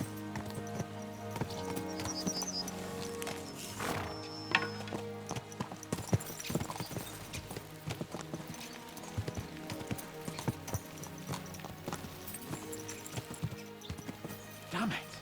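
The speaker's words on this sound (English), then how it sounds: "Let's really spur these horses on, eh?" Horses gallop in Kingdom Come: Deliverance II, their hooves clip-clopping in a quick, steady rhythm throughout, with a voice talking over them and occasional in-game effects.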